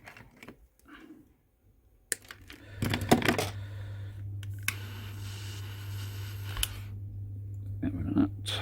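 Wire being snipped with cutters while a Robox 3D printer is rewired with a heated-bed solid state relay: sharp, close metallic snips and clicks, one cluster of rapid clatter, over a steady low electrical hum.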